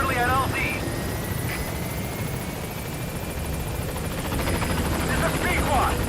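The Pequod helicopter arriving at a landing zone in Metal Gear Solid V gives off a steady, loud rotor and engine drone throughout, with radio-style voices talking over it.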